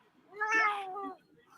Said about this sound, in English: my cat just invades my room